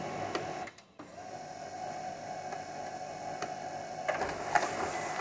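An HP LaserJet P1005 laser printer, just repaired after failing to pull paper, whirs steadily as it feeds a sheet, with a brief pause and a few small clicks and clunks near the end.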